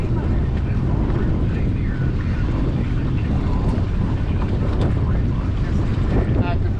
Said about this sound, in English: it's a little breezy here